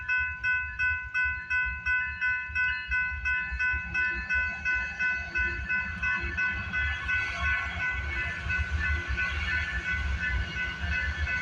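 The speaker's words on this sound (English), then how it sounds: "This train's going pretty slow." A long freight train led by locomotives 8889 and 8204 rolls slowly past, its wheels clacking in a steady repeating rhythm, loud and close, with a sustained horn-like tone building toward the end.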